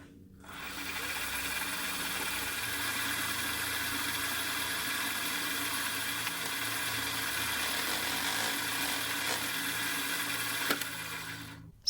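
A vertical milling machine runs while its quill is fed down very slowly on fine feed, giving a steady, close motor hum that holds evenly for the whole stretch with a faint tick near the end.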